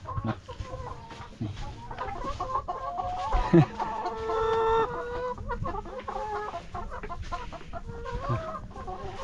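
Farm chickens cluck steadily through the scene, several birds layered at close to moderate distance, with a sharper squawk near the middle and a busy, rustling barnyard background.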